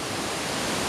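Triberg Waterfalls in the Black Forest, Germany, roars as a dense, steady, broadband rush of falling water, loud and close with no other sounds.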